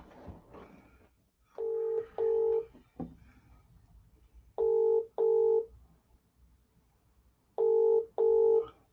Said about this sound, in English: I'm just going to make a phone call.